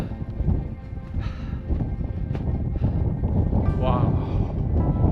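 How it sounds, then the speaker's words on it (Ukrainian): Strong wind roars across the microphone in a steady low rumble on a volcanic crater near the Quilotoa lagoon in Ecuador, while a voice calls out briefly. "Дуже вітряно."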